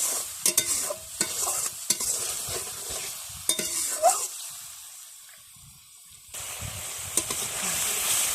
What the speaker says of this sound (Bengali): তেলে ভাজা হয়ে গেছে, আমি একটু পানি দিয়ে লাইরে ছেড়ে কষাইলাম।